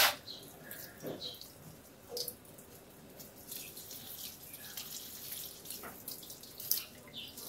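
Water pours and splashes while a lemon tree is watered, a soft uneven trickle with drips and small gushes, fairly faint and without talk.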